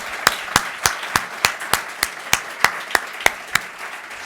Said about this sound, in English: Let's give this an applause.